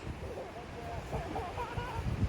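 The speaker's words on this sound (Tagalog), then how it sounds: "Grabe yung hangin, guys" Strong wind blowing outdoors near a family home, a steady rumbling buffet across the microphone with gusts swelling toward the end, and voices faintly mixed in.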